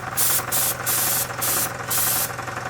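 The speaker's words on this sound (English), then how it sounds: "We've got thinner coming out immediately" An Artlogic AC320 0.2mm airbrush sprays thinner in five short, sharp hissing bursts separated by brief pauses, close up over a steady low hum.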